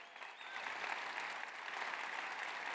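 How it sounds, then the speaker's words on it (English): A room of people claps for David, a new country manager joining the company from Google, with a faint, steady patter of applause that continues unbroken throughout. "Big round of applause for David."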